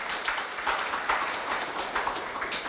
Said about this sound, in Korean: 박수로 김진성 원장님을 맞이하여 주시기 바랍니다.